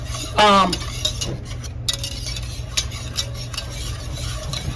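A fork stirs a milk-and-flour sauce in a pot, with a quick sharp clink followed by soft, steady scraping and faint clicks against the pot.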